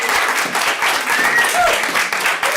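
An audience claps at a Utah County Board of Canvassers public meeting, a dense and loud round of applause with crowd noise throughout.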